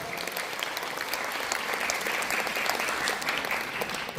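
An audience at a symposium and awards ceremony in a library auditorium claps continuously, a dense, even patter of many hands heard from a short distance.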